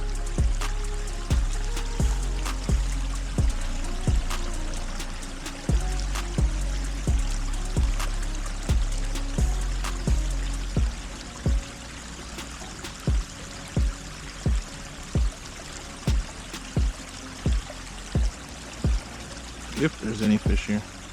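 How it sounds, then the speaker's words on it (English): Water pouring down into a fishing spot, making bubbles: a steady splashing, trickling stream close by, heard alone without talk and punctuated throughout by regular sharp clicks or taps. "What's cool is how the water's coming down. Makes all those little bubbles. It aerates the water."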